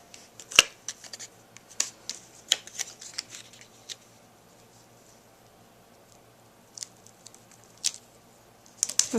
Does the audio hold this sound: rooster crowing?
no